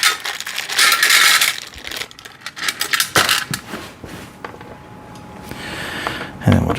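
Small metal screws for a VEVOR rotating shoe rack clatter and jingle close-up as they are dropped into a magnetic tray, in bursts of rattling clinks followed by quieter handling noise.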